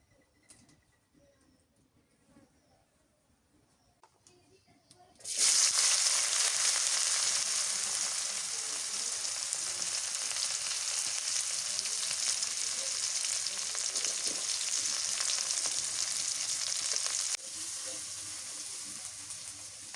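A large brigade fish, about five kilograms, drops into hot oil in a pan: quiet room sounds, then a sudden loud, steady sizzle that continues close and even to the end, easing slightly near the finish.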